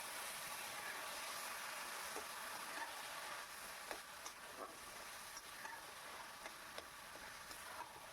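Taro leaves (kochu shak) cooking in a pan hiss with a steady sizzle while a utensil stirs them, with faint scraping taps at intervals and no voices.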